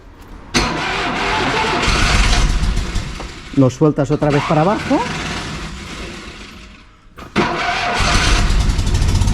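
A 1969 Fiat 500 L, flooded with choke, cranks with a rapid churning burst and catches into a rough engine note, with loud talk in Spanish before and after.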